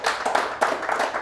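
Brief burst of audience applause and clapping at a live boxing preview podcast, a short patter of hands with a small swell partway through, moderately close and without talk over it.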